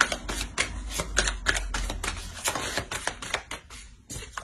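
Tarot cards being shuffled and drawn, then laid down, giving dense rapid papery flicks and snaps close up, continuous across the moment with no speech.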